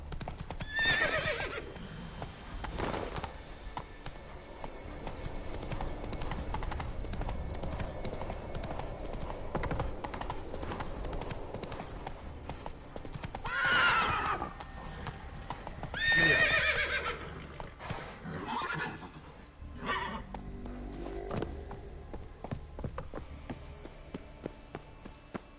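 A horse in The Witcher 3 galloping with steady rhythmic hoofbeats throughout, broken by several loud whinnies and neighs, over game ambience and faint voice lines.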